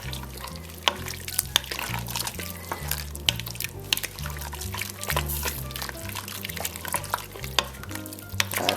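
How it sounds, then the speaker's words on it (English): A thick elk stew is stirred in a pot, with wet scraping and sloshing at an irregular rhythm, fairly quiet and close, while low background music plays beneath. "we're going to go ahead and add this back to the stew now. And stir it all together."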